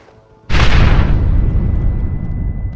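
A loud blast as planted charges go off at a gate in Red Dead Redemption, hitting suddenly after a quiet moment and rolling on as a heavy, rumbling roar that slowly fades.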